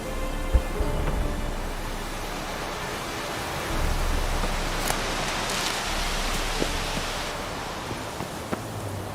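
Steady rainfall in the Witcher 3 game world hisses as a broad, even wash with a low rumble underneath and a few faint scattered ticks, and no voices over it.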